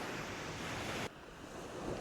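Rough surf from a big swell washing onto a beach with dirty churned water, a loud continuous roar mixed with wind buffeting the microphone, dropping suddenly partway through.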